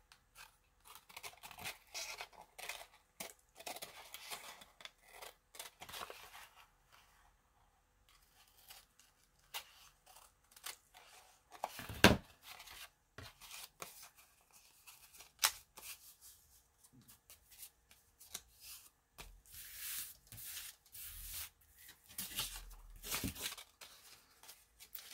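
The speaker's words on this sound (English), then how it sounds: "I'm just going to trim off the papers that are hanging over the edge" Scissors snip intermittently through overhanging book-page paper edges, quiet scattered cuts and rustles with pauses between, including one sharper snip midway and a cluster of louder cuts near the end.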